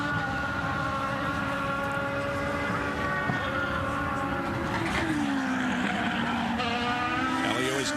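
A 2010 IndyCar runs flat out through a corner at Edmonton qualifying, its engine a loud, sustained high whine that holds steady and then dips and bends in pitch over the last few seconds.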